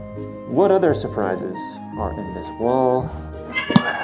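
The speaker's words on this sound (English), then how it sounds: "That is a cat." A cat meows several times with harmonic, rising-falling calls inside a castle wall in France, close and clear, interleaved with a person speaking nearby.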